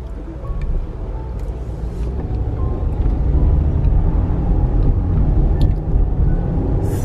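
A 2021 Range Rover Evoque driving smoothly in comfort mode makes a steady low cabin rumble of road and engine noise, continuous and fairly loud, with a few faint clicks and no talking.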